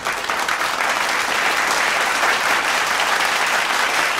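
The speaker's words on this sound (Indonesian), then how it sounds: "Tepuk tangan buat kita semua." A large audience at the opening of an Indonesian women's Islamic assembly meeting gives sustained, dense applause, a steady roar of many hands clapping at once throughout, with no talk over it.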